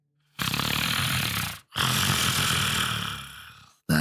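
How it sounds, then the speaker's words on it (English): Heavy, rasping breathing from behind in a tense roadside scene, two long drawn breaths close and loud, each a rough snore-like rush of air separated by a brief pause, with a third starting at the end. "a heavy breathing"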